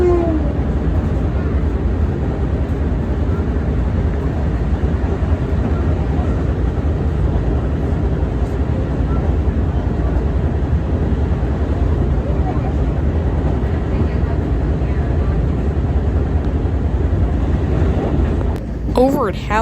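An LIRR M7 electric commuter train rolls past at close range, a steady broadband rumble and rush holding for nearly twenty seconds before cutting off abruptly at the end.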